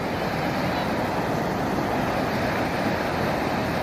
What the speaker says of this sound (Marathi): शेतातून एवढ्या पद्धतीनं पाणी बाहेर निघतंय